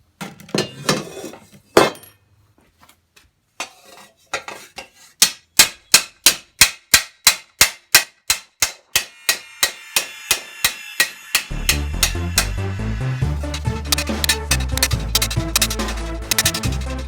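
A steel helmet is hammered during planishing, first scattered taps, then a long even run of sharp ringing metallic blows, followed by faster overlapping strikes against a lower rumble.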